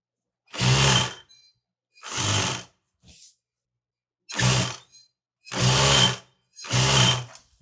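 A sewing machine stitches a seam on a Saudi jubba in five short bursts of rapid mechanical whirring, each under a second long and separated by silent pauses, heard close and without any talk.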